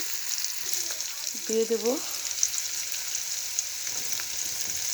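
Chopped onion sizzles in oil left over from frying chicken, a steady faint hiss that runs throughout while someone speaks briefly over it.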